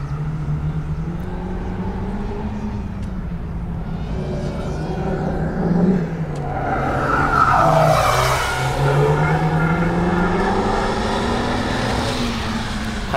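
A Renault Megane RS Trophy R with an Akrapovic exhaust on street tyres at a laptiming track drones up through the revs with burbling and popping, swelling louder midway, close and continuous with no talk.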